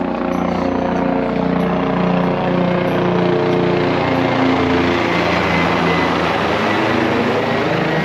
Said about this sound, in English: That's the helicopter. The helipad is in front over there.